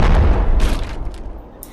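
A bomb going off in the VR game Animal Company: a loud, close, booming blast that fills the moment and decays over nearly two seconds.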